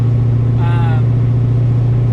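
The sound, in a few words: 1969 Camaro with cammed LS swap engine running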